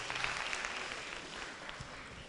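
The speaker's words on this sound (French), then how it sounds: "Applaudissons pour ça, s'il vous plaît." Audience applause at an awards ceremony, a steady wash of many hands clapping that holds evenly throughout and eases slightly toward the end, with no speech over it.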